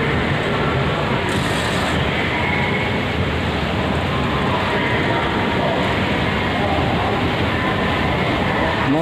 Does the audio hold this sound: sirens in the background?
no